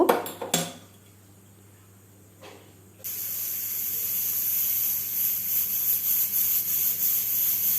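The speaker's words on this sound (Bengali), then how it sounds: "গ্যাসে বসিয়ে দিলাম আমি দুটো সিটি দিয়ে নেব" A pressure cooker sits on a gas stove, cooking ghugni with baking soda and salt. A few clicks and knocks are followed by quiet, then a loud, steady steam hiss rises and continues to the end.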